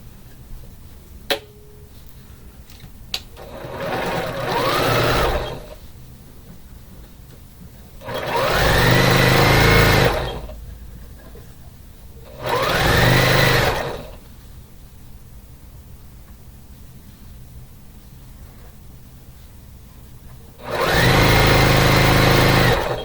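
Sewing machine stitching a sashing strip for a Christmas quilt, four bursts of fast whirring stitching separated by quieter pauses, close and steady, without talk.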